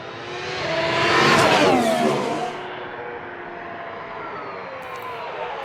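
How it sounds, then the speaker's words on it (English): A Ferrari Formula 1 engine roars past close by, its pitch sweeping up then dropping as it passes, fading into a steady distant engine drone. "That Ferrari engine sounds good too"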